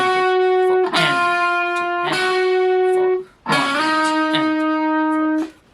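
Loud, close distorted electric guitar plays a dropout part, sustained notes separated by sharp muted chugs and a brief gap, with no voices.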